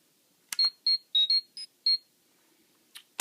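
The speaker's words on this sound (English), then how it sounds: "Yes, the original communicator beep." A Mighty Morphin Power Rangers Legacy Power Morpher toy communicator gives a series of short, bright electronic chirps in quick irregular succession, close and clean against near silence, followed by two brief clicks.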